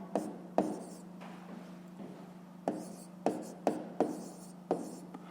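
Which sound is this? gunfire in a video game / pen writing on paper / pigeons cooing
pen writing on paper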